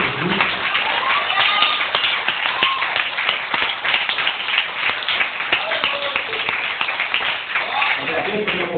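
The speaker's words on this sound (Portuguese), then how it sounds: "vamos aplaudir, glorificar e exaltar o nome de Jesus" A church congregation applauding during a worship service, a dense, steady crowd clapping that carries through the whole stretch, with voices mixed in beneath it.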